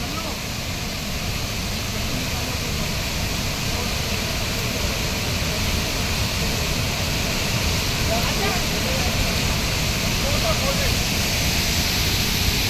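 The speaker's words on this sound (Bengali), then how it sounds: "নদীর কোলে এরকম একটা ঝর্ণা।" Harvale waterfall pouring into a river, a steady, loud broadband rush of falling water close by that never lets up, with voices faintly present beneath the roar.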